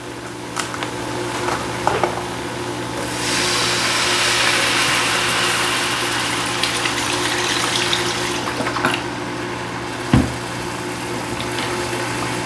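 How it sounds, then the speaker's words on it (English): Beef broth pours into a hot pan beside smothered pork chops, giving a steady rushing splash and sizzle over a constant background hum, with a few scattered clinks and knocks. "Now we're going in with some beef broth"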